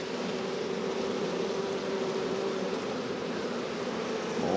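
Honey bees drone inside an open hive during an early-season inspection before almond pollination, a dense, steady, close buzz that holds at an even level throughout with no talk.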